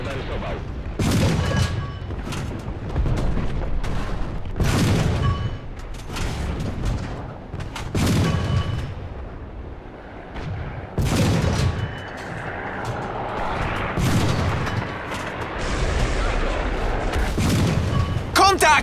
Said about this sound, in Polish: Poczułem ten wybuch!